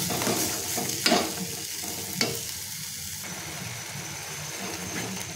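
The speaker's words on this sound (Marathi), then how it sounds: "वाटणाच्याच भांड्यामध्ये मी पाणी टाकून ते आपण ह्याच्यामध्ये टाकून घ्यायचं आहे आणि 1 2 मिनिटं आपल्याला ते परतून घ्यायचं।" A masala paste thinned with water is sautéed and stirred in a pan for a sprouted matki usal, giving a soft continuous sizzle with a couple of sharp spoon knocks near the start.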